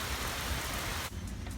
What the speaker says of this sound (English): There's some very intense rain today.